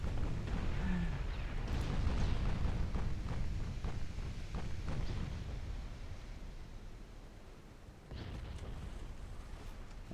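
Torpedo strikes on ships in the naval video game Shipyard Champions: a dense, loud rumbling blast of explosions and crackling bursts that builds and then slowly fades, with a fresh impact near the end.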